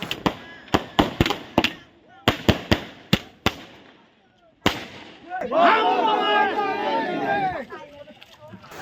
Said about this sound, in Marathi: फटाक्यांची आतिषबाजी करून